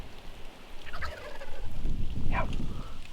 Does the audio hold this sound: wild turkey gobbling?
yes